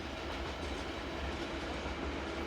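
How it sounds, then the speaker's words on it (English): A train hauled by class 185 electric locomotive 185374 rolls into Bebra station from the north, a steady loud rumble with wheel clatter and low mechanical drone throughout, close by and with no voices. "Entering the station from the north is 185374, on train 60305 from Hamburg, which terminates here at Bibre."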